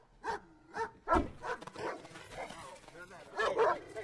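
Dog barking in the film Knives Out: a series of short yips and barks, spaced irregularly and mixed with overlapping speech.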